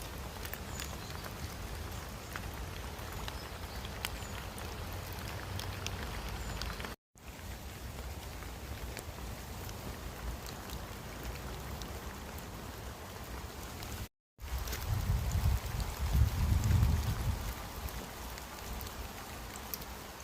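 Steady rain falling in a wet woodland beside water where ducks swim, a continuous hiss of drops with a louder, busier burst near the end, no voices.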